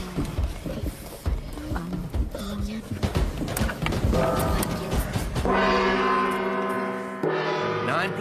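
A game-show gong rings out loud and sustained, its long humming tones layered over music and studio sound after a stretch of busy talk and effects.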